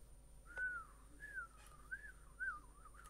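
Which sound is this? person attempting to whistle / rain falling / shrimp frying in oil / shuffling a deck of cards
person attempting to whistle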